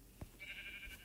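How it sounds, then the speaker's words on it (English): A single sheep in the video game Minecraft bleats once, a short, faint, nasal call following a soft thump, heard alone without talk. "Look at that sheep."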